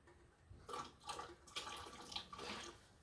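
Liquid splashes as vinegar is poured into canning water in a few short bursts, close by and fairly quiet, with no talking.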